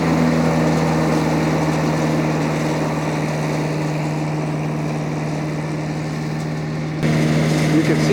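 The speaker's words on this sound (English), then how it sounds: "You can see what's happening here is the blower is blowing the stuff all the way out to the left side." A tractor-driven orchard blower sweeps harvested chestnuts aside in a farm orchard, giving a steady, loud engine drone with a constant low hum that holds unbroken, then swells slightly near the end.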